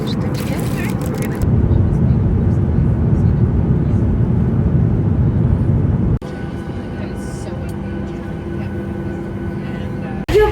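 Airplane cabin noise on a flight to Vancouver: a loud, steady low engine roar that drops abruptly to a quieter hum partway through, with brief clicks and bumps.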